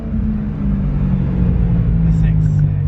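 A BMW E92 M3 drones with a loud, steady low-pitched engine note heard from inside the car, with a faint voice briefly audible over it near the end.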